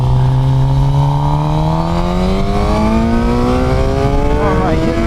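A Suzuki GSX-R 750 motorcycle with a Yoshimura R77 full exhaust and Moore Mafia tune pulls steadily at speed, its engine note rising smoothly under constant loud wind rush, with a brief wobble near the end.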